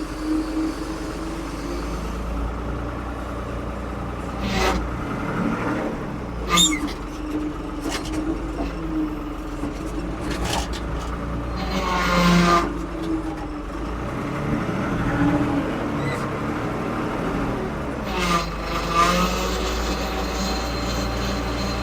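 A 1975 Ford 550 backhoe works on concrete slabs, its diesel engine a steady loud drone with rough mechanical rumble and occasional scraping knocks, running continuously without pause.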